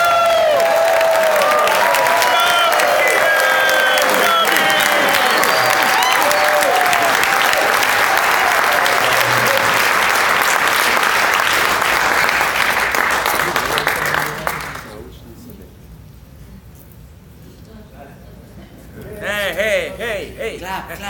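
Audience at the World Seed Summit gives loud, sustained applause with cheering welcoming a speaker, then it fades out abruptly into near silence before a few voices return.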